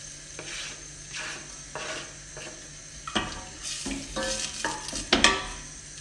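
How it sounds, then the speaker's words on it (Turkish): Onions sautéing in a pan on a home stove for a Turkish bean stew, with a soft sizzle under the scrape and tap of a utensil stirring against the pan. The sound is close and moderately quiet, with no talking. "Önce soğanımı atıyorum. Biraz kavuracağım."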